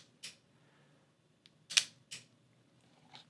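A couple of soft mechanical clicks, a short whir between them and a crisp shutter snap from a Hasselblad X1D II medium format camera, all close and fairly quiet against a hushed background.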